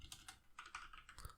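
Keys clatter on a computer keyboard in quick irregular bursts of clicks, close and fairly quiet, with no voice over them.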